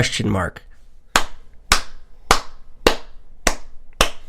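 Slow, evenly spaced single hand claps, about seven sharp separate claps roughly half a second apart and close by, follow a brief moment of talking at a political appeal for Jeb.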